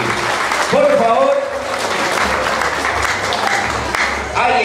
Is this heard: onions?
no